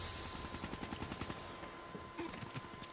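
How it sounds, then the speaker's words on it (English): Rapid gunfire crackles in quick repeated bursts during a Black Ops III multiplayer match, with a loud blast at the start and further shots near the end, all close and dense. "So many grenades!"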